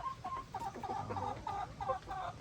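A farm chicken roaming near goats and pigs, giving a run of repeated clucks in a quick uneven rhythm, moderately close but soft, with no talking.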